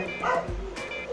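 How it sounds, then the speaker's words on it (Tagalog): A small dog barks and yips nearby in a few quick, sharp bursts, indoors in a home beauty setting, with faint room noise around it. "sorry sa aso"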